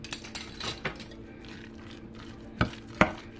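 Salmon croquette mixture of canned salmon, crumbs and flour being stirred and mixed in a bowl, with soft scraping strokes and two sharper knocks of the utensil against the bowl near the end, close up and with no talking.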